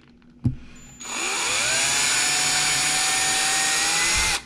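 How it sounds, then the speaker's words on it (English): A power drill fitted with a 3/32 inch bit bores a hole for a keyhole picture hanger. A sharp click comes first, then the motor spins up into a steady, loud whine that holds for about three seconds before stopping. "Now I'm gonna take out my 3/32 inch drill bit, and I'm gonna drill a hole right in the middle of the 2 test holes I made"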